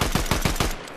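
Rapid gunfire from a weapon in the video game Fortnite, four or five sharp, loud shots in quick succession, then the last one decays into a short tail.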